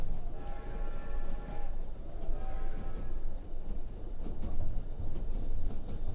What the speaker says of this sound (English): The repetitive sound of the wheels chugging away lulls you deeper